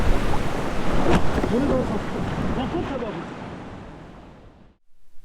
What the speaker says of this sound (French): C'est la tempête aujourd'hui.